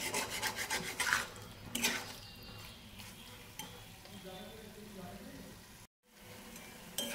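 Papaya korma being stirred and fried in a pan, a steady close scraping, rubbing and sizzle with brief louder scrapes, a short dropout near the end, and faint talk underneath.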